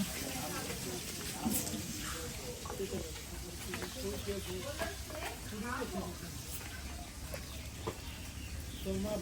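Boiled chicken pieces frying in a pan on an outdoor stove for wedding cooking, a steady close sizzle and crackle running throughout beneath someone talking.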